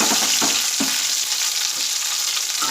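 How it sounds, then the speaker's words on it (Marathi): Chopped tomato sautés with curry leaves in a hot pan, giving a steady, close crackling sizzle broken by a few stirring scrapes early on. "आता या टमाटरला देखील आपल्याला चांगलं सॉफ्ट होईपर्यंत चांगलं परतून घेऊया"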